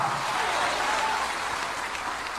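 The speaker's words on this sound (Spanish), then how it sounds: "Puede darle un aplauso de gloria a ese Dios todopoderoso" A church congregation applauding together, a steady dense wash of clapping that fills the whole moment at close range, with a few voices faintly mixed in.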